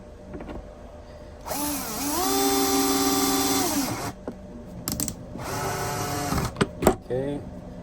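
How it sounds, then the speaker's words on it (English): An electric drill whirs in two bursts, rising and falling in pitch with brief pauses and clicks between, close and fairly loud. "I'm using the drill again."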